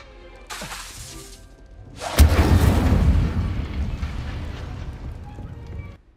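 A fire spell cast in Hogwarts Legacy bursts out as a loud, crackling whoosh that roars and rumbles for several seconds after a brief earlier swish, then cuts off abruptly.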